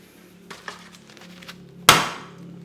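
A rubber foot is pushed into the base of a Yamaha LP1B three-pedal unit, with a few faint light knocks followed by one sharp, loud snap as it seats, its ring fading over the next moment; no talking.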